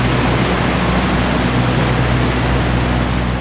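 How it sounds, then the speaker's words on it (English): A pounding waterfall heard up close during a climb, a loud, unbroken broadband roar of crashing water that fills the whole clip without pause. "Bill fixes his rope and starts wrestling his way up the waterfall."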